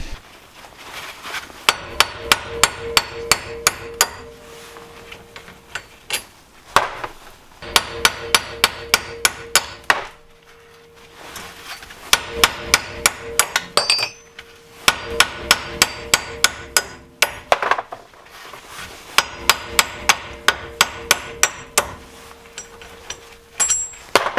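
Rapid bursts of sharp metallic hammer blows bashing parts out on an Evo IX, struck in quick ringing volleys separated by short pauses, loud and close with no talking.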